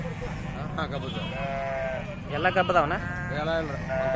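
Sheep bleat repeatedly at a sheep market in Gokak, wavering cries rising above someone talking nearby, with a low steady hum underneath.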